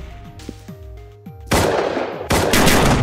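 Pistol gunfire in the Roblox game Module: two dense bursts of loud, close shots at about 1.5 s and 2.3 s that continue to the end. Tonal game music and effects play before them.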